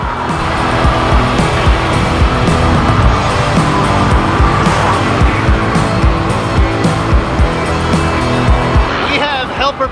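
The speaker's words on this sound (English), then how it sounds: "These tires are very old, so that's what we're attributing a lot of the noise and stuff to on this ride." A classic car rolling on very old tires, loud continuous road and tire roar with rumbling engine under it and a brief squeal near the end, with people talking over the noise throughout.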